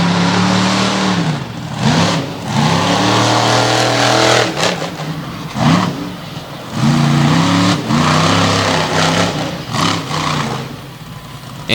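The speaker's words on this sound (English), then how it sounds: "And that machine from Team Throttle Monster now wrapping up our Pro Monster Truck qualifying." A monster truck on a Pro Monster Truck qualifying run at the 2021 Outlaws event in Canfield, Ohio, its engine roaring loud and close in repeated surging revs separated by brief drops.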